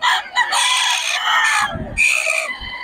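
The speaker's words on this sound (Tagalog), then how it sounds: "mga gray yung dala ni Boss Tony ngayon" Gray fighting roosters crow loudly and close by, with one long drawn-out crow followed by a second, plus some low clucking between them and no talk.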